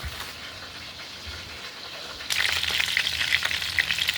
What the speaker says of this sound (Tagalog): konting prito lang ito